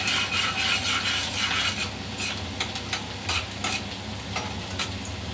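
Chopped onion sizzles steadily in hot oil in a home kitchen pan for rice uppittu, a close, continuous crackling fry broken by scraping stirs.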